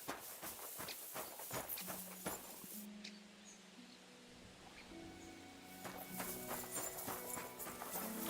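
Horse hooves clip-clop in Kingdom Come: Deliverance II, a steady walking beat of hoofbeats over background game music, moderately close, with a brief quieter lull midway.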